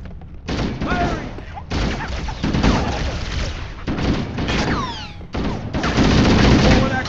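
Gunfire erupts in Halo: Combat Evolved as Covenant forces attack aboard a ship under evacuation, loud bursts of automatic fire in several long volleys with short gaps, booms and whizzing shots mixed in.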